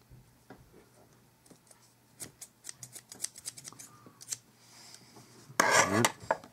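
Scissors snipping cotton wick for a Taifun GT2 RTA, a series of small close clicks and snips, quiet, ending in a louder burst of rustling noise.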